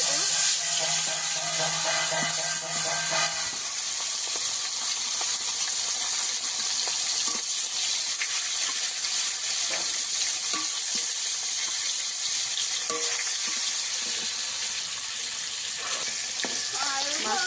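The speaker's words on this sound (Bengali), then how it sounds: "মাছগুলোকে ভেজে নেবো" Small live pond fish frying in hot oil, a continuous close sizzle and spatter that runs throughout, with a brief hum near the start and no clear talk.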